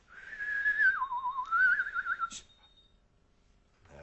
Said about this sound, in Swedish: Jag tycker jag ska vissla då.